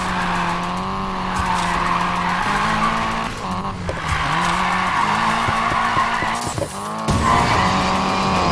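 Nissan Silvia tuned for drifting in Need for Speed Payback, engine revving with sustained tire squeal and skidding, loud and continuous with pitch shifts and brief gear changes.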